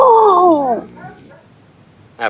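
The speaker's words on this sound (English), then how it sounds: "That dog just does not stop barking." A puppy lets out a long, drawn-out whining yelp that falls in pitch, then softer whimpers and a short sharp bark at the end, close and loud, with no talking.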